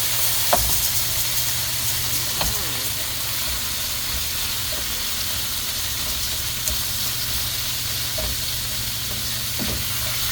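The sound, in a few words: ground meat sizzling in a pan for chop suey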